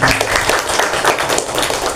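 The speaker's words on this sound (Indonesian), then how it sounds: "Tepuk tangan dong." Audience applause at an SMP Assaadah school gathering for a parenting talk, a steady wash of many hands clapping that carries through the whole two seconds at an even, fairly loud level.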